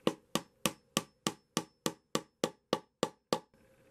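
Hammer tapping a Stewart MacDonald guitar kit's wooden neck into its body on a workbench, a dozen evenly spaced sharp knocks, clear and close, then a short faint pause.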